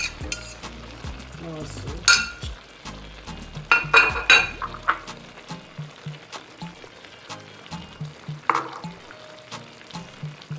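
Chocho and carrot going into a pot of Jamaican brown stew beef, sharp clanks of a spoon against the pot and a series of stirring knocks over a low sizzle, with a brief spoken phrase.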